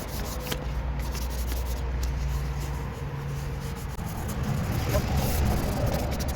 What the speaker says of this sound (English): so go ahead and take our sandpaper right here.